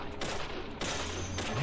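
Gunfire in the Deadly Premonition video game, Xbox 360 version: a few sharp, loud shots in quick succession over a steady noisy background, with no voices.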